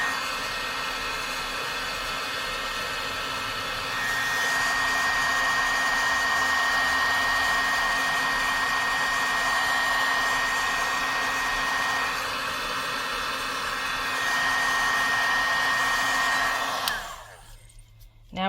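Heat tool blowing hot air steadily onto embossing powder on a die-cut flower, a loud continuous whirring hiss with a slight change in level before it cuts off abruptly near the end.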